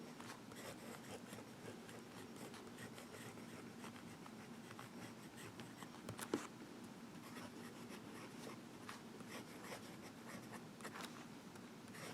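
Visconti Mirage fountain pen with a wet nib scratching across Rhodia dot grid paper, a steady close, faint continuous rasp of strokes and swirls with one small tap partway through.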